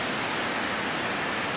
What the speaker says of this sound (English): there's this gorgeous waterfall